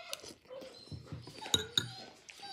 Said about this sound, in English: my dog. He's so needy.